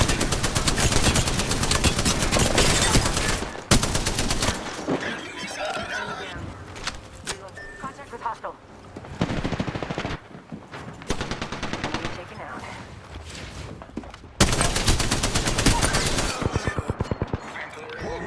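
Sustained rapid machine-gun fire in the video game Apex Legends, loud and dense, in long volleys broken by brief lulls filled with game sounds and callout voices.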